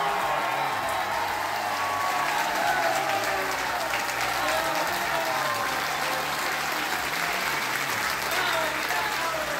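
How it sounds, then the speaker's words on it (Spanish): Sustained applause from a crowd, steady and dense for the whole stretch, with some voices mixed in underneath. "te mandamos este abrazo en forma de aplauso"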